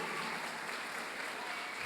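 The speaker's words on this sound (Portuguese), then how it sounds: "Vamos aplaudir o Senhor Jesus." A church congregation claps during a family worship service, a continuous even patter of many hands at moderate distance with no pauses.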